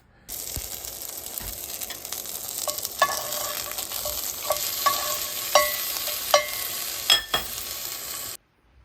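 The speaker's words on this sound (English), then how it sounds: "Let's go grill this off, finish it off, make sure it's medium, and taste it for flavor." Goat meat sizzles and fries steadily on an outdoor grill, a continuous close crackle with scattered sharper pops and clicks of utensils throughout.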